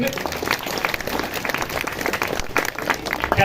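Audience applause during a live Balinese comedy show, dense clapping mixed with crowd noise and laughter, steady and fairly loud throughout.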